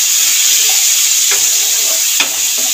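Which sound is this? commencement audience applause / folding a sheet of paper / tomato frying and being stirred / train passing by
tomato frying and being stirred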